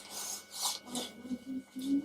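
An FMM curved cutter pressed by hand and moved around on a cutting mat, giving several short scraping, rasping rubs close up, with a soft voice speaking over them.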